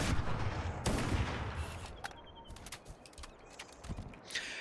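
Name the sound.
sniper rifle shots in the video game Halo Campaign Evolved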